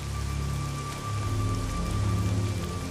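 Steady rain falls on a surface outdoors, a dense, even patter that continues without a break and with no talking.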